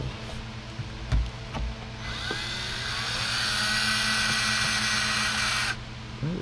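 A power drill whines steadily for several seconds drilling holes to fit a carbon fiber side skirt on a Camaro, loud and close, after a few knocks and clicks.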